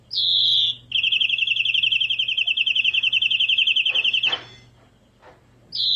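A close songbird sings a long, fast, buzzy frog-reel trill in pond-frog pattern lasting several seconds, bracketed by short chirps, over a steady low background hum.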